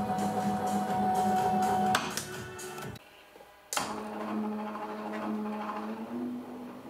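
Mill power feed driven by a NEMA 34 stepper motor at its lowest speed of 6 revolutions per minute, a steady tonal whine with rhythmic ticking that cuts out briefly near the middle, then resumes.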